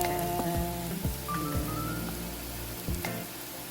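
Hot cooking oil sizzling steadily in a pan before garlic goes in for a Filipino sweet and sour fish, with a few sharp clinks and scrapes of utensils over the continuous hiss.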